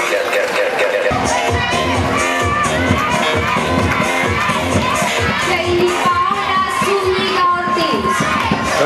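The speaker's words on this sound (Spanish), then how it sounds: "Un fuerte aplauso para ella." A crowd at a popular beauty pageant coronation in Arboletes, Antioquia, cheers and applauds a contestant, a loud and steady din of claps, shouts and children's voices that runs the whole time, with tonal music or voices mixed in.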